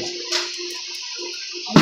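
Water is poured out in a steady, close rush with a splashy burst at the end, heard on its own in a house.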